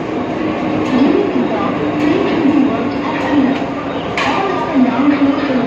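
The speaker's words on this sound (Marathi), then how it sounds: "ट्रेन आत्ताच आली आहे." A Virar local train pulls into Nalasopara station with a loud, steady rumble of rail noise and a low wheel hum. A few metallic clanks and clicks ring out over crowd and platform murmur.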